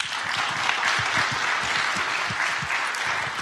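Business round-table audience at a chamber of commerce event applauding a company CEO as he joins the stage, dense continuous clapping, close and moderately loud, with no talk.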